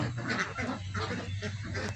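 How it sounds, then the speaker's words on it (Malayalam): Several large ducks quack in a close, noisy chorus, overlapping nasal calls over a low droning hum. "നല്ല വലിയ താറാവുകളാണ്"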